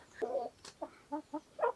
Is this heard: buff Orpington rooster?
yes